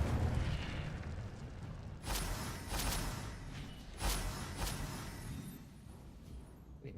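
Incendio fire spell cast in Hogwarts Legacy, heard as several whooshing, bursting blasts over a steady game background, with louder flares at intervals.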